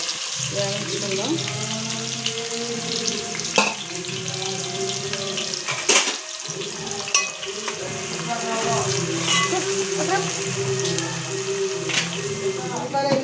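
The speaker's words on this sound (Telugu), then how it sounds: "ఉల్లిపాయలు, పచ్చిమిరపకాయలు రెండు కలిపేసి శుభ్రంగా బాగా వేయించుకుందాం." Onions and green chillies fry in a pan for chicken curry, a steady close sizzle with occasional stirring scrapes and small clinks, while a voice talks faintly underneath.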